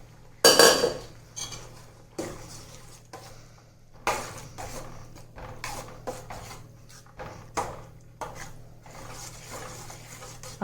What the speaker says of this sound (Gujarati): હવે આપણે તેમાં બાફેલી તુવેરના દાણા નાખીશું